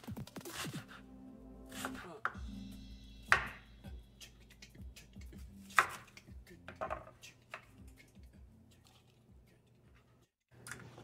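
Vegetables being chopped for a vegan slow cooker taco-seasoned fiesta dish, with irregular knife taps on a board, a few louder sharp strikes, clinking and music-like tones running underneath.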